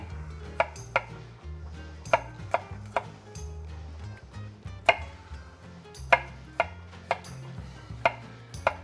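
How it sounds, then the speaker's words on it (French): Garlic being roughly chopped with a knife on a board, a series of sharp, close, irregularly spaced knocks over a low background hum. "il nous reste à couper assez grossièrement l'ail"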